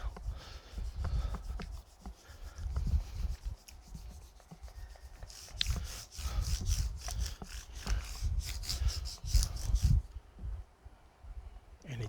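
Guitar fret wires are sanded with 10,000 grit abrasive, a steady close rubbing scrape in quick back-and-forth strokes that keeps going for several seconds and then brightens and speeds up.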